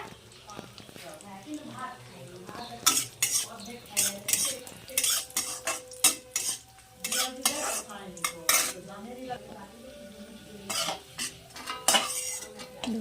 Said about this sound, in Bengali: এখানে লাল লাল করে ভাজা হলে ভেজে তুলে নেব।